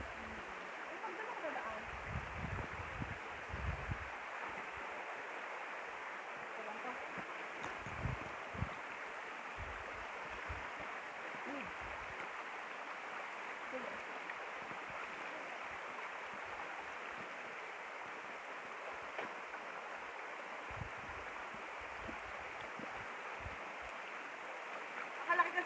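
A shallow, muddy mountain stream with a strong current rushes steadily and fairly faintly, with occasional low thumps and no clear voices.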